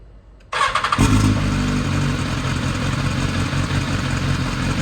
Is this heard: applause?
no